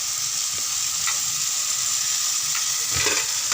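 Whole brinjals sauté in hot oil in a pan for a Tamil kathirikai kadayal, giving a steady close sizzle with a few soft stirring scrapes and no voices.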